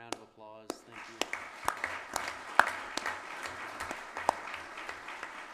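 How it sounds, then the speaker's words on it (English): Audience clapping follows a group presentation at a policing event, starting after a brief spoken phrase and building into scattered, uneven applause with several sharp individual claps standing out. "Let's give group number one, Adriano Castellari, a big round of applause"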